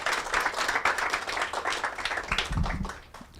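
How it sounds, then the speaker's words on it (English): Audience at a talk breaking into a round of applause, uneven and gusty clapping from a modest crowd with a few heavier thumps near the end before it thins out. "So massive round of applause,"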